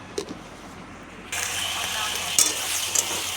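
Bottle gourd leaf paste is poured into hot oil in a kadai over a nigella seed tempering, and a loud, steady sizzle bursts in after a quiet start, with a few sharp pops.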